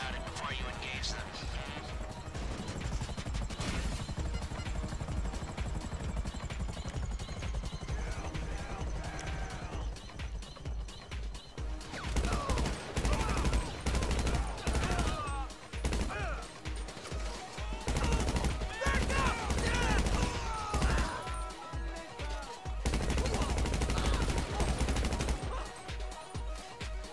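Rapid bursts of automatic gunfire and heavy weapon shots during GTA Online's Doomsday Heist, loud and dense in the second half, with people talking between volleys.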